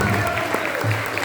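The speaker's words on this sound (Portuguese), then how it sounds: "Mais forte as palmas para Jesus." A church congregation at a Thursday worship service claps for Jesus, dense close clapping mixed with voices and some low hum.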